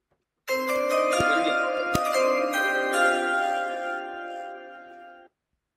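Draft-pick chimes play at a fantasy football league draft, a sustained bright tonal ring with a few sharp ticks near the start, rising abruptly and fading out after about five seconds, with no voices.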